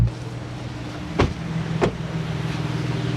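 A two-wheel drive Toyota Sequoia SUV rolling up slowly, heard as a low steady engine and road hum with two brief clunks or thumps partway through.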